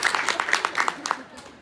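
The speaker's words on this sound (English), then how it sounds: "Please, round of applause for the others." A classroom group breaks into a short burst of clapping, close and brisk, mixed with a voice speaking over it.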